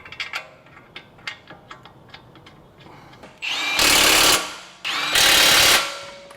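An impact tool drives lug or caliper bolts back in during a 4.5-inch lift install on a 2019-2025 Honda Passport, two loud sustained bursts about a second long each following scattered faint clicks and handling noises.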